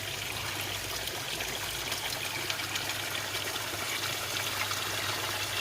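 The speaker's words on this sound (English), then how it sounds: "I'm hoping I shouldn't be losing water, because that's a quick drip" Water leaks fast from a pipe fitting, giving a steady, continuous trickling hiss at low to moderate level with no break or voices.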